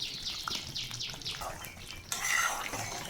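Mutton with spices stirred and fried in a pot: a metal spoon scrapes and clinks against the pot in quick repeated strokes over a soft sizzle, close and fairly clear, with no talking.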